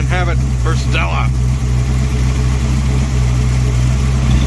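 Engine of a 1968 Dodge D100 custom pickup idling steadily with a deep low rumble close by, under brief talking at the start, with no clear revving.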